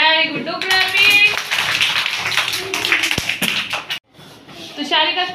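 Young kindergarten children clap together in a classroom, a dense burst of many small hands patting under loud overlapping voices, stopping briefly before voices return.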